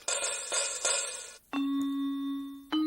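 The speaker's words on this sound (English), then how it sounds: "Chimes are part of the percussion section because they produce music when they are struck by a stick" Bright metallic tones ring out from chimes struck with a stick: a few quick shimmering strikes, then a clear sustained chime that rings steadily before another strike.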